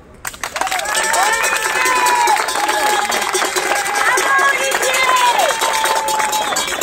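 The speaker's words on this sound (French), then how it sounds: "tout ce que je demande pour Olivier, c'est un tonnerre d'applaudissements" A large protest crowd of gilets jaunes, caregivers and citizens in Pau bursts into sustained, loud applause and cheering, with shrill whistle-like tones wavering above the dense clapping throughout.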